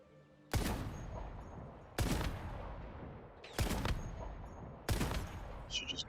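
Gunfire in Once Human while shooting at enemies: four sharp, loud shots or short bursts at roughly even intervals, each trailing off into a ringing tail, with faint talk in between.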